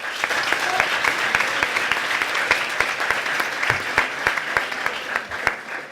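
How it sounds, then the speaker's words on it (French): Audience at a French eloquence debate contest clapping steadily for a speaker, a dense run of many hands that stays even throughout and is fairly close. "C'est très bien, on peut l'applaudir, s'il vous plaît."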